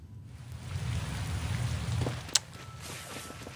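Steady soft rain in Tales of Xillia 2 patters throughout, with a brief sharp tap standing out partway through; no voices.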